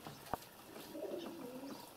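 A pigeon gives a soft, low cooing call outdoors, faint and somewhat distant over steady background noise, with a single sharp click early on.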